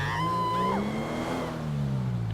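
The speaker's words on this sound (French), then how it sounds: "C'est le bruit d'une voiture qui existe dans GTA" A Porsche 911 Turbo S rated at 540 horsepower revs loudly in the video game GTA 5, its engine note climbing and then dropping with rising and falling pitch sweeps, dense and close throughout.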